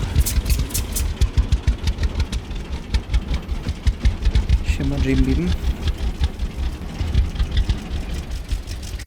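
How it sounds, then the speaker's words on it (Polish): A chugging tractor engine in the video game Farmer's Dynasty runs steadily with a rapid rhythmic knock, loud and close, while someone briefly speaks over it. "Szkoda, że nie można yy, dźwięku typowo ciągnika przyciszyć."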